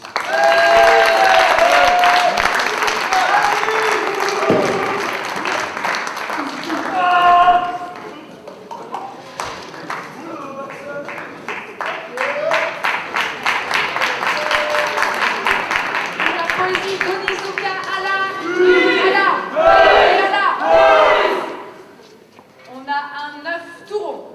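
An audience at a poetry slam applauds a poet, sustained clapping and cheering filling the room, with a voice speaking over it through much of the stretch and the applause swelling again near the end.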